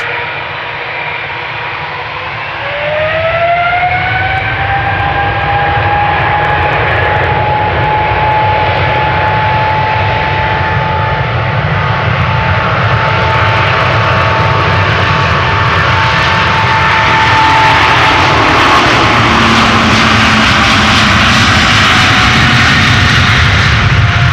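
Delta Airbus A330 jet engines spool up at Schiphol's Polderbaan runway, a rising whine settling into a loud sustained roar with a steady tonal hum that swells toward the end.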